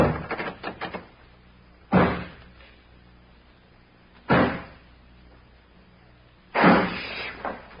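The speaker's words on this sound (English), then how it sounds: "I'll lock this door on the outside." Three separate heavy thuds of a door being handled and locked from the outside, spaced about two seconds apart, each a sharp close impact with a short rumbling decay, preceded by a few quick knocks.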